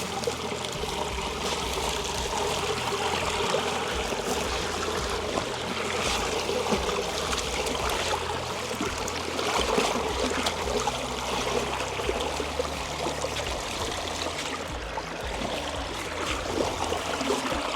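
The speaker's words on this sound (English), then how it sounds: "You can kind of hear that water going underground" Water trickling and flowing away underground through a muddy drainage spot in Nebraska, a steady, close, gurgling wash that continues evenly throughout with no voices.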